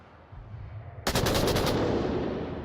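Rapid automatic gunfire in a VR shooter game during a competitive match: a sudden loud burst of fast repeated shots erupts after a quieter low rumble, sustained close and dense for over a second before trailing off.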